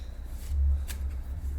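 Tarot cards being shuffled by hand, a soft papery riffle and rubbing that runs steadily through the moment, with a low background hum and no talking.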